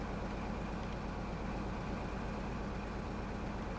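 A Class 43 HST diesel engine in Train Sim World 4 rumbles steadily at a low level, heard from close by as a constant, unbroken drone with no talking.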